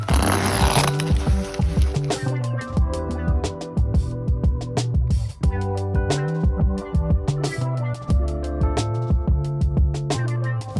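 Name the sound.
sewing a zipper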